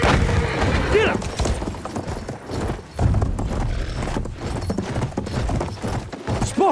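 In a cavalry battle video game, horse hooves clip-clop and gallop in uneven bursts alongside booming gunfire and a brief whinny, while players talk over the action.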